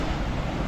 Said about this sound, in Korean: 파도가 시간이 지날수록 점점 높아지는 것 같습니다.